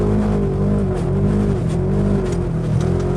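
The engine of a Polaris RZR XP 4 1000 side-by-side climbs a hilly off-road trail, giving a loud, steady drone that rises and falls slightly as the throttle shifts, heard close up with no talk.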